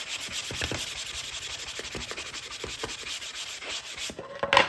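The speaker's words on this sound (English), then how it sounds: "I'm sanding it off, cleaning it up, leaving the back stain." Close-up sanding of a wooden bird shelf edge, a steady rasping rub with rhythmic back-and-forth strokes, no voices.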